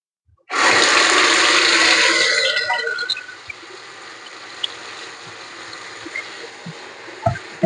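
Water gushes from a tap while things are being washed, loud at first and then easing to a steady, softer stream with small clinks of handling.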